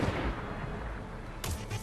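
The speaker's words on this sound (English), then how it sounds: "you basically hold down the trigger, it's going to charge up the shot, and then it's going to automatically fire" A Queenbreakers' Bow fusion rifle in Destiny, a loud sustained charging roar followed by a sharp bright discharge near the end, with no talking.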